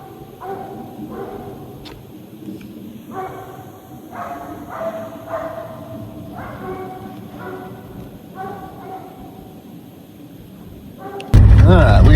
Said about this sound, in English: Dogs have cut out behind us and they are running him.